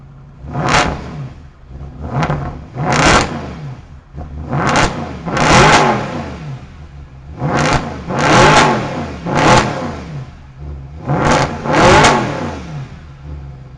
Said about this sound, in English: let's go ahead and hear how this exhaust system sounds